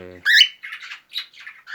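A pet cockatiel squawks loudly and close by in a run of sharp, harsh calls with brief gaps between them.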